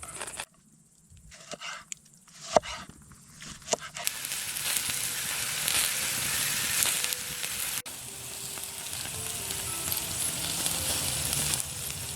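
Sausage sizzling in a pan at a riverside camp, preceded by a few clanks and taps, then a steady loud hiss and crackle of frying that carries on to the end, with no talking.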